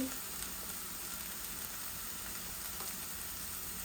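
Chili goes into a frying pan with a steady, hissing sizzle of hot oil, constant and close throughout, with faint stirring and no clear talk.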